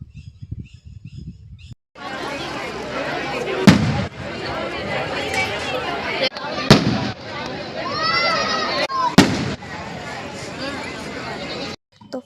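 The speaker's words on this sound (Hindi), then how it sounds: "पटाखे वटाखे छूट रहे हैं" Firecrackers burst during a wedding procession in Rajasthan, with four sharp bangs spaced a few seconds apart cutting through a busy outdoor crowd din and voices.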